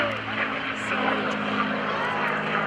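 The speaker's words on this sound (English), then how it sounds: "Vlado Lenoch from Chicago, Illinois in the Mustang coming from the right." A P-51D Mustang with a Merlin engine passes at an air show open house, a steady propeller drone with broad engine roar held level throughout, moderately distant and continuous.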